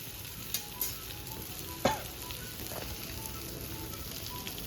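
Tarle fish fillets coated in rava shallow-fry in a pan, giving a soft, steady sizzle and crackle with a few brief clinks of a utensil. The sound is fairly quiet and without talk.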